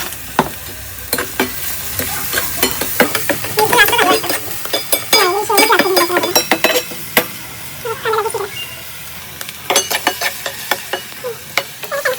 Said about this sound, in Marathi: कांदा आणि टोमॅटो लगेच शिजायला म्हणून आपण थोडंसं मीठ टाकलं